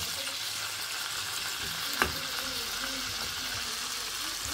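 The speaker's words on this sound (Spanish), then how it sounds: "ya le eché la cebolla, el chile verde, vean." Onion and green chili fry in a pan with a continuous bright sizzle, a brief clink or stir near the middle, and faint background voices underneath.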